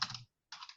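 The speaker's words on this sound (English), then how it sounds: "I hear Phil typing" Typing on a computer keyboard in two short bursts of quick clicking keystrokes separated by a brief pause, close and fairly quiet, with no voices.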